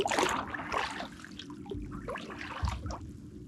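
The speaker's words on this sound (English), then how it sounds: "Give me a nice swell and a nice gurgle." Sea swell gurgles and sloshes against the stern of a sea kayak, a close, wet churning with bubbly surges that rise and fall, like a toilet flushing.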